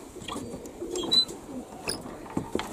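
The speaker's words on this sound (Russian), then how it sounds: "Голуби наши, голуби" Pigeons in a yard after winter coo softly and intermittently at close range, with brief rustles and chirps around them and no talk.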